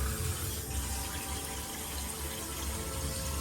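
Tap water runs steadily into a rice pot to top up the level for cooking, making a continuous close gush that stays even throughout, with no talking over it.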